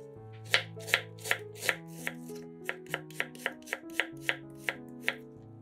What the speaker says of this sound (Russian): 1 луковицу нарезаем четверть кольцами